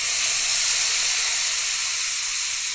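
White wine poured into a hot pan of mushrooms and vegetables gives a steady, loud broadband hiss of steam and sizzle that holds unbroken throughout, with no voices.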